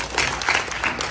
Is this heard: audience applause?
yes